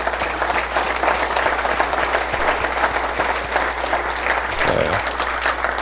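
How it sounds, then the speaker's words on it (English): An audience at a steak dinner event keeps up steady, dense applause, loud and continuous throughout with a low hum underneath and no break. "let's give another round of applause"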